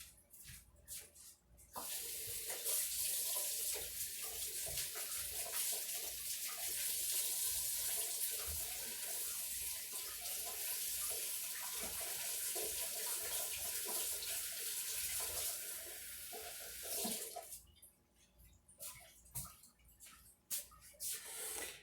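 Warm tap water runs steadily from a faucet for about fifteen seconds to feed a sourdough starter, a close, hissing stream that stops and gives way to light clatter and handling noises.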